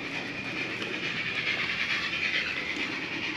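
An HO scale model train runs along layout track on a large display, giving a steady, continuous rolling rumble with faint clicking, moderately loud and unbroken throughout.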